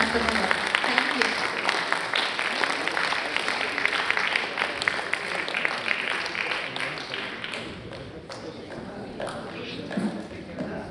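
An audience claps after a drama performance, the applause dense at first and then thinning out into scattered claps, with a voice speaking over part of it.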